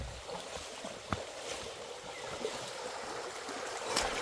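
River water flows and trickles steadily near a waterfall in Lipa City, Batangas, a close, even rushing wash with a few small splashes.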